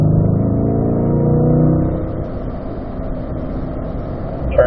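Race car engine on track pulling back to full throttle after braking, a loud steady drone from inside the car that drops in pitch partway through and then holds at a rough, even roar.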